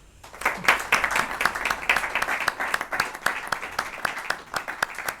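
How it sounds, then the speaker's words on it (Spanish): An audience at a Cartagena religious brotherhood conference applauds, a fairly close, steady burst of clapping with distinct individual claps standing out, continuing throughout. "Yo pido un aplauso para ellos."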